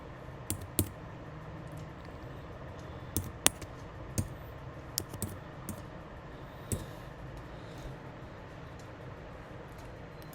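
Light keys on a computer keyboard are tapped in short irregular bursts while a mobile number is entered, with crisp close clicks scattered over a quiet room hum and no talking.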